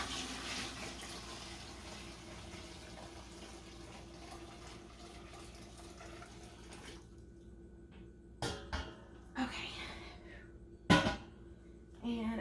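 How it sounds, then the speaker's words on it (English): Steady running of hot soap mixture pouring into a 5-gallon jug of water, then stopping, followed by a few sharp knocks and clunks. "we're gonna pour it in this 5-gallon jug of water"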